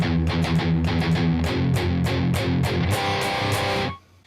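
A heavily distorted electric guitar plays a chorus riff in rhythmic palm-muted chugs and accented chords, loud and alone, ending abruptly after about four seconds.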